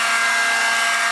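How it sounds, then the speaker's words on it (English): A steady, loud, close airflow roar blows heat onto the rear glass of a Sony Xperia Z2 phone to loosen it. "Oh, we got some heat coming up now"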